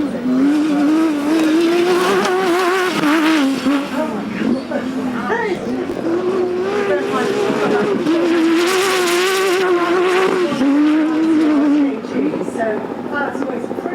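A high-revving KRS Volkswagen Polo 6R rally car with a 2-litre Golf R turbo engine roars continuously close by at Goodwood Festival of Speed, pitch rising and falling through gear changes, with someone talking over it throughout.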